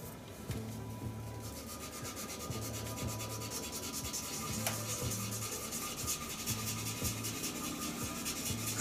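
Sandpaper rubs rhythmically over a clear epoxy resin shaving brush handle, light back-and-forth strokes repeating at a steady pace, close and fairly quiet with no voices.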